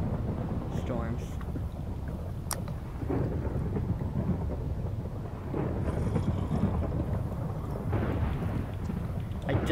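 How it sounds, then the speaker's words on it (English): Minecraft thunderstorm during a speedrunners UHC match: steady rumbling rain and wind noise throughout, with a few sharp thunder cracks, under occasional talk. "Storms."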